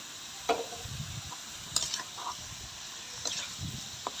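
Beef fat melts in a pan with salt while a beef korma is being made. A faint, steady sizzle runs throughout, broken by a few soft scrapes of stirring.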